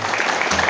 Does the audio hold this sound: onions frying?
no